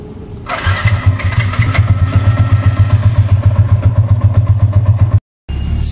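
A Yamaha Y15ZR motorcycle engine starts by alarm remote, catching after a short crank and settling into a steady, loud, close single-cylinder idle with a rapid regular thump before a brief cutout.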